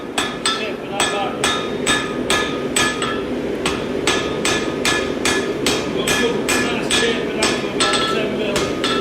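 A blacksmith hammers a steel taper on an anvil, a fast, steady run of about twenty loud ringing blows, evenly spaced and close by, with no pauses.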